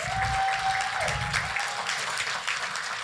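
Conference audience at the opening of a Ukraine-focused summit giving a round of applause, steady clapping from a crowd in a hall for about three seconds.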